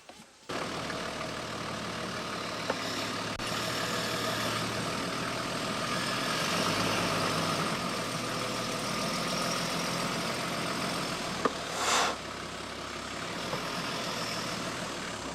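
A vehicle engine running steadily in the outback as it drives over a tyre resting on a kangaroo jack to break the bead, a continuous rumbling idle with a slight rise and fall and a brief clunk near the end.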